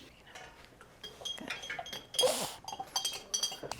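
Milk heats in a pot for cheese making while a utensil clinks and scrapes against the metal in irregular stirring strokes, close by, with faint background noise.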